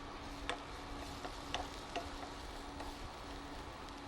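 Ginger and garlic sizzle in a pan with a soft, steady frying hiss, broken by a few light ticks and pops, and nobody talks over it.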